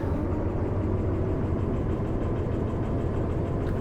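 Heavy loaded train in the Derail Valley simulator beginning to reverse after its brakes are released, a steady low rumbling engine and rail drone continuing evenly throughout with no voices.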